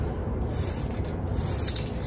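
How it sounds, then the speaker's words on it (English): Short spray-bottle bursts of water misted directly onto the soil of a potted succulent, a soft hissing texture with one sharper puff near the end, close and fairly quiet. "So I'm gonna spray directly on the soil."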